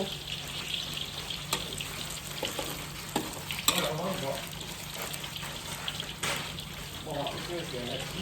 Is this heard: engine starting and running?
no